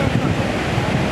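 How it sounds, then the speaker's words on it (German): Continuous roar of sea surf washing onto a beach, with light wind buffeting the microphone, loud and steady without a break. "Ihr hört ja mit Sicherheit das Meeresrauschen"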